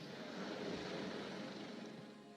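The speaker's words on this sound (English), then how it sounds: "The Coast Guard sends in a helicopter to take out the last person on site at a caravan park." Steady engine and rotor drone of a Coast Guard rescue helicopter flying over a flooded caravan park during Storm Dennis, heard continuously at moderate distance with no speech.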